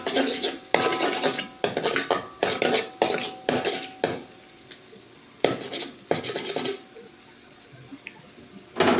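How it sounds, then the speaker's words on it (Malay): Sausage fried noodles are stirred in a pan, with repeated loud, rhythmic clanks and scrapes of a utensil against metal in bursts, easing off briefly before picking up again near the end. "Okey, kacau-kacau. Biarkan dia gorengnya, dia masak dulu."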